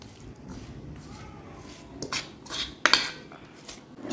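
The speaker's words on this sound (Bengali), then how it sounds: "এই সমস্ত সবজি মশলা সব কিছু একসাথে ভালো করে মাখিয়ে মিশিয়ে নিতে হবে" Vegetables and spices being mixed by hand in a metal bowl with mustard oil, for small mola fish paturi, give off soft squishy rustling and a few sharp clinks of the bowl, all close and fairly quiet.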